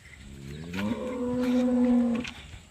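A single long, deep moo from a Holstein Friesian dairy cow at a dairy farm near Rajahmundry, loud and close, swelling and then fading out over a couple of seconds.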